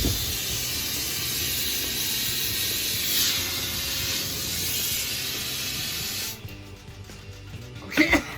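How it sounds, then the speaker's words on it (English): A gas torch roars with a steady, loud hissing flame while melting silver for casting jewellery pendants, the rushing noise continuing evenly before cutting out, followed by a couple of brief clunks. "get that torch on there"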